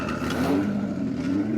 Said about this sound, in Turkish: Arabaları park ediyorlar burada.